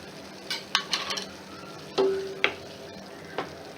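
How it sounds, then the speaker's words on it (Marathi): Coriander vadi mixture stirred in a pan with a spoon, giving a few soft scraping strokes and light clinks against the metal, spaced irregularly and heard up close with no talking. "व्यवस्थित ढवळून घेऊया."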